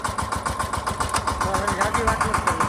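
A farm tractor's engine chugs nearby in a steady, rapid pulsing rhythm while people talk over it.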